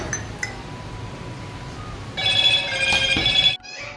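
A telephone ring sounds in a rural Indian home, starting partway through as a loud, bright electronic ringtone that sustains for over a second and then cuts off abruptly, with faint clinks before it.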